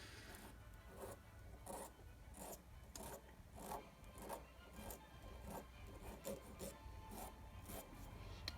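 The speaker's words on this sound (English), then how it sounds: "And the file really only works on the push motion." Steady rhythmic hand filing of a metal jewelry chain, close and quiet, a rasping stroke on each push repeated about every half second.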